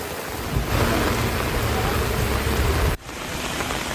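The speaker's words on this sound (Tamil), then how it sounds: "தஞ்சை மாவட்டத்தின் பல்வேறு பகுதிகளில் ஒரு மணி நேரத்துக்கும் மேலாக கனமழை பெய்தது" Heavy rain pours in Thanjavur district, Tamil Nadu, as a dense, steady hiss of water that cuts off sharply, then resumes slightly softer.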